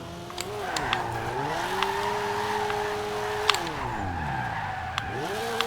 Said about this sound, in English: from what I can hear, the turbo sounds marvelous